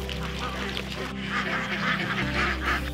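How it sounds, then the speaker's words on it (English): Runner ducks on a small-scale farm quacking in a short series of nasal calls, moderately close over a steady low background hum, with a faint voice in the mix. "We use those runner ducks for the truffle field."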